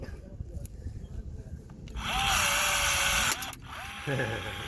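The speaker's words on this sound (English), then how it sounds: "I'll even show you guys what this pop rivet's gonna look like." Pneumatic pop rivet tool setting stainless steel rivets on a Keystone Fusion RV slide-out, a loud sustained hiss-whine lasting over a second, ending in a sharp snap and a brief second burst, close by.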